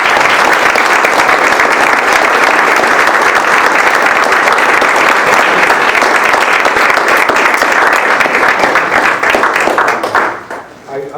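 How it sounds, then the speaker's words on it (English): An audience at a referendum debate event gives sustained, loud applause: dense continuous clapping throughout, with some cheering, then tapering off at the end. "all of our speakers deserve a round of applause"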